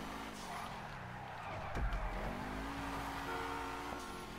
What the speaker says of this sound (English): the car that I have now is very fast